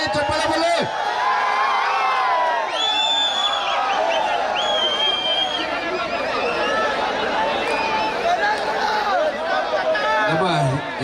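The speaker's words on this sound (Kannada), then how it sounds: "ಜೋರಾಗಿ ಚಪ್ಪಾಳೆ ಬರಲಿ" Crowd at a village kabaddi match, Gadag versus Jothi Bapule, with loud continuous cheering, whoops and chatter while an announcer speaks over the noise.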